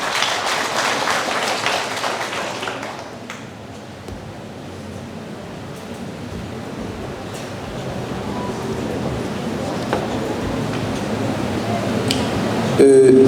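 Audience applause at a graduation ceremony, dense and continuous clapping that dips slightly and then holds steady, with speech audible underneath.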